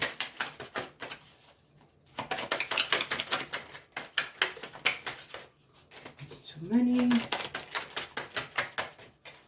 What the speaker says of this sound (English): Two more shuffles and I will pull from the top.